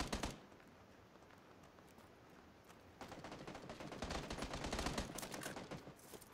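Far-off gunfire in PUBG comes as scattered cracks and short automatic bursts. They are faint and distant, with a single shot at the start and a denser volley of shots in the second half.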